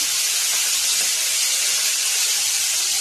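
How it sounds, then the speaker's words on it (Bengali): Radish greens dropped into hot oil give off a loud, dense, continuous sizzling hiss that stays even throughout, with no other sounds. "মাছ ভাজা তুলে নিলাম, এবার শাকটা ছেড়ে দেবো।"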